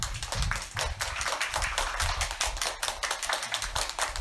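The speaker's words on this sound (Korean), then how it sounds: "박수로 한번." A church congregation at a Sunday worship service claps for its graduates, a loud, dense burst of hand claps that stays strong from start to finish, with no voices over it.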